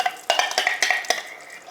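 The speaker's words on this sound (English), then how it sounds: "So in goes the ghee, and we're going to fry them on slow heat till they get a beautiful brown golden color." Ghee goes into a pot to fry ghee kebabs over slow heat, heard as a short run of close clinks and scraping stirs against the pot with a light sizzle.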